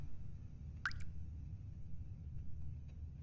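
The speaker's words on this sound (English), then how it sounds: "There's water dripping right here." A single drip of water in The Stanley Parable video game, one clear plop near the start over a low, steady ambient hum, then only quiet room tone.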